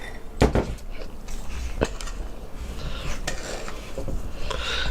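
A spatula folds cream into airy pound cake batter in a bowl, giving soft scraping and wet swishing strokes with a few sharp clinks against the bowl and no talk.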